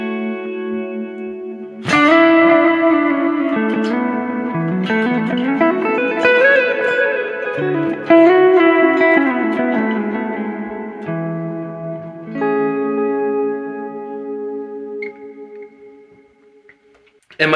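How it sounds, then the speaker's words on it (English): An electric guitar played through a Line 6 HX Stomp on a washed-out setting with lowered delay and heavy reverb rings out in sustained, echoing phrases, notes smearing into long trails that swell and fade, ending in a decaying wash. "The delay is a little bit lower, but the reverb's a little bit higher"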